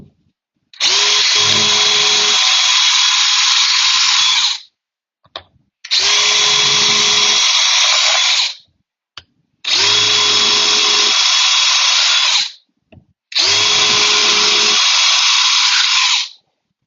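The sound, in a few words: power drill drilling screw holes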